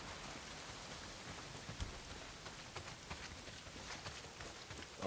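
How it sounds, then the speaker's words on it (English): Heavy rain pours down in the video game Days Gone, a soft, even hiss of drops on surfaces with a few scattered heavier patters and knocks, fairly faint and without speech. "Well, not if it's pissing down rain."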